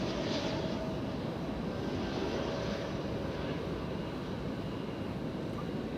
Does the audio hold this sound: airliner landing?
yes